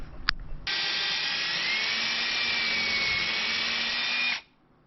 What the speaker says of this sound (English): I'm going to drill that